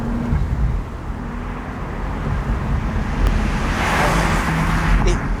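A new 991-generation Porsche 911 Turbo cabriolet drives with its roof off, the engine note building as it accelerates, mixed with strong wind and road rush.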